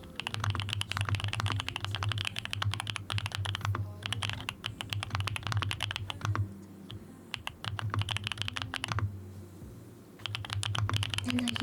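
Steady, rapid typing on a smooth, creamy-sounding mechanical computer keyboard, with dense close clacks running continuously and a few brief pauses, and no talking.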